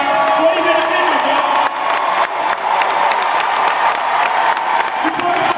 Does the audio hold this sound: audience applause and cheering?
yes